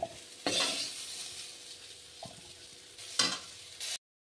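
Fried cauliflower and potatoes being scooped out of a pan into a bowl: a soft sizzle with several distinct scraping, clattering bursts from the spatula and pan, close by, ending abruptly.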